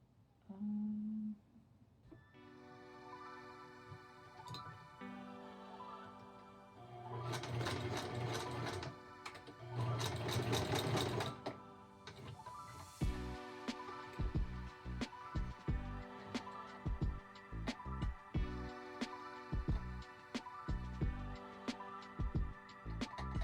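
A sewing machine runs in bursts while sewing elastic flat onto a skirt, bright motor whir with rapid needle clatter, starting and stopping several times close by.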